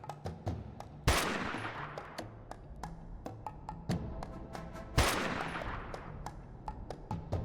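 Gunfire in the post-apocalyptic indie sim Dustland Delivery: two loud, sharp shots about four seconds apart, each with a long decaying tail, over a steady game ambience with fainter ticking hits.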